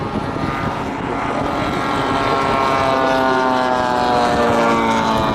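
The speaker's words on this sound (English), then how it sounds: "we've got the second Wellington being flown by the lads from Liverpool" Large-scale model World War II aircraft, including a Wellington bomber, flying at an RAF Cosford model show; a steady, loud droning propeller engine with a slowly shifting pitch as it passes, with no talk.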